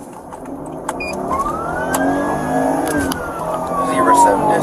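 A car speeds away from a police traffic stop, its engine revving and accelerating steadily with a rising whine, while a police siren and radio-like sounds carry in the background.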